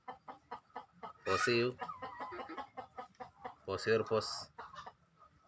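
Hens on a small poultry farm cluck and squawk in short bursts close by, two louder agitated outbursts standing out, while a person talks softly between them.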